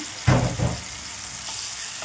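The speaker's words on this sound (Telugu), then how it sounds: "వేసేసుకొని మొత్తం కలిపేసుకోవాలి" Tomato puree going into a pumpkin curry pan, with two quick thumps as it lands and is stirred, followed by a soft continuous sizzle of cooking underneath.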